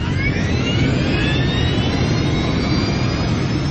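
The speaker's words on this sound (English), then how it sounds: "Flight 358 powers into the sky above Paris." Air France Flight 358 jet airliner taking off from a Paris runway, a loud steady engine roar with a rising whine that holds throughout.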